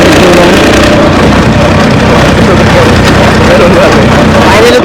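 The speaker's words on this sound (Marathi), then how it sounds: "फायनली तो आपण तो ट्रॅक्टर चालू केलाय." A tractor engine runs loud and close, a dense steady rumble that sits near the top of the level throughout, with possible voices mixed into the noise.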